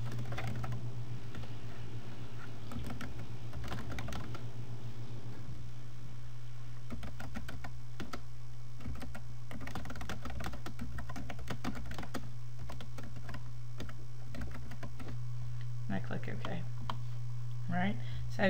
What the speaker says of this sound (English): I can type a description